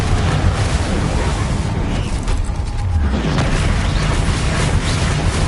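Confringo and Bombarda spell explosions in the video game Hogwarts Legacy, a steady, loud rumble of booming blasts and whooshing bursts that blend into a continuous roar without clear pauses.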